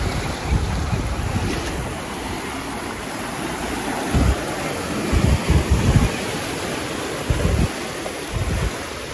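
Ocean waves surge and break at Stokes Bay beach on Kangaroo Island, a steady wash of surf with several louder crashes, under constant wind buffeting the microphone.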